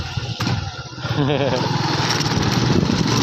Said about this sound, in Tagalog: Ay, speedboat, motor rin siya, motor.